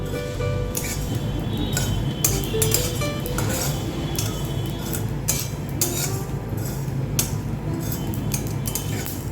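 Spices crackling and popping as they fry in a pan for a rui fish dish: a steady bed of sizzling noise broken by scattered sharp pops and clinks throughout.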